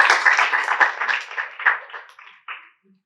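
An audience claps for children after a Bhagavad Gita recitation, a dense burst of applause that thins into scattered final claps and fades out within about three seconds.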